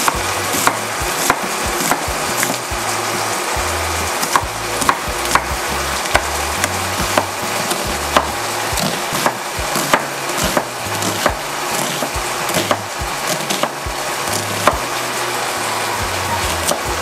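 Onion being sliced on a wooden cutting board, a steady series of sharp knife taps against the board, close and fairly loud, with no talking.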